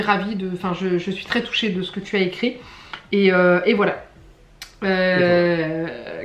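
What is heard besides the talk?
None of the usual background noises is heard.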